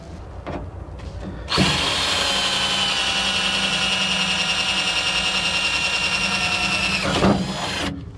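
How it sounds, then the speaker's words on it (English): A power drill whirs loudly and steadily for several seconds while installing an RV battery, starting and stopping abruptly, with a few handling knocks before and after. "Get my drill."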